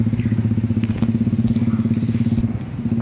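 A motorcycle becak, a motorcycle rickshaw, passes on a street in Batu Bara, North Sumatra, its steady engine drone with a low rumble holding for about three seconds before easing slightly near the end.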